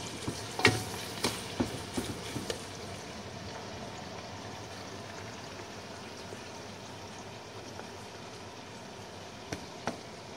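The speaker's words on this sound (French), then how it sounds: "je vais mettre 3 gros oignons en fines lamelles. Et là je laisse frire bien comme il faut," Three large, thinly sliced onions fry steadily over medium-high heat for an Indian biryani, giving a continuous soft sizzle. A few clacking stirs of the utensil come early, and the pan then sizzles on its own.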